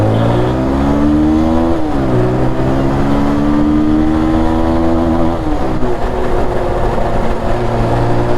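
Bajaj Pulsar 220 motorcycles riding together at night on a straight road, their engines droning loud and steady with rising and falling rev tones that shift in pitch over wind rush, and no voices.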